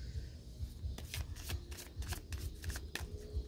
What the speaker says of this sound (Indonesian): saya akan mengambil 3 kartu untuk tema dari ini, Earth Magic ya